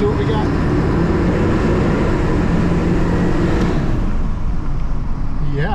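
A Ford F250 Super Duty pickup with the 7.3 Powerstroke diesel drives along, its dense low engine and road rumble steady and loud from inside the cab while someone speaks briefly over it.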